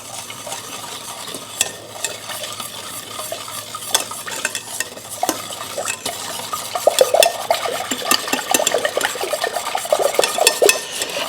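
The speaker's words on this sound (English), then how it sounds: "whisk this together." Sweet and sour sauce ingredients being whisked together in a bowl, a fast continuous rattling of the whisk with busy clicks against the sides, close and steady throughout.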